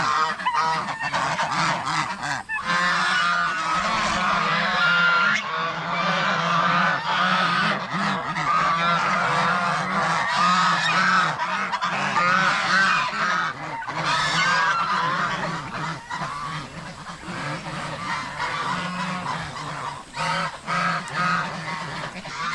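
A flock of farm geese kept alongside ducks and turkeys honk loudly and nearly without pause, with many overlapping nasal calls close by and no talking.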